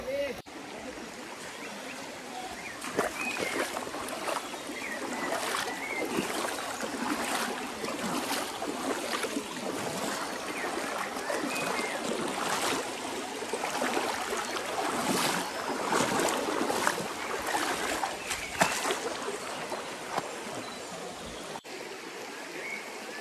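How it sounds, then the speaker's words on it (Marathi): A stream swollen by heavy rain rushes steadily throughout on a trek to Rangna fort, a dense broad wash of flowing water, fairly close and constant. "खूप पाणी आहे ओढ्याला"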